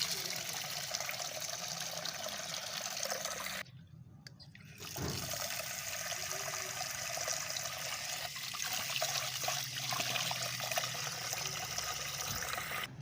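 Running water splashes steadily as ingredients for fishing ground bait are washed, a continuous trickling and pouring that briefly cuts out midway and then resumes.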